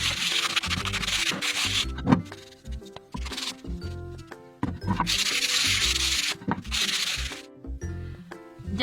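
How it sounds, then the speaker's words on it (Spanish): Finer sandpaper rubs back and forth over wood in close, rhythmic scratchy strokes, pausing briefly between bursts, with the occasional knock of the workpiece and no talking. "Le paso ahora una lija un poquito más fina para que quede más suave el resultado."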